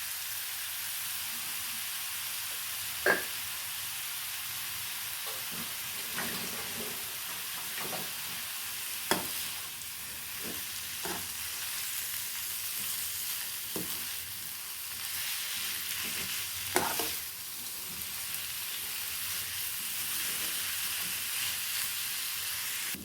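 Ridge gourd peel sizzles and fries in a pan for a Tamil thuvaiyal, a steady soft hiss with occasional sharper crackles and pops, no voices.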